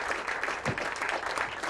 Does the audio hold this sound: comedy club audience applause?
yes